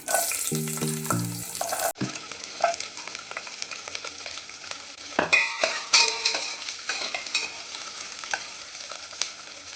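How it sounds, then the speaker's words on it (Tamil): Onions sizzle and fry steadily in a hot pan while cooking mutton bone sambar, with occasional scraping and stirring clatter from a utensil. "வெங்காயத்தை ஒரு தடவை நல்லா வதக்கி விட்டுக்கலாம்"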